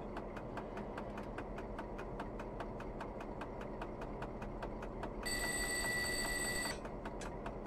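Cab radio test ringing in a BB 67400 diesel locomotive in Train Simulator Classic, a bright electronic ring tone lasting about a second and a half over a steady ticking, rhythmic cab hum.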